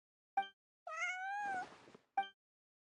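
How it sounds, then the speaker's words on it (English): Bonnie the cat meows three times in Genshin Impact: a short clear meow, then a longer drawn-out one that turns breathy and rough, then another short meow. The calls are close and isolated, with silence between them. "Meow meow."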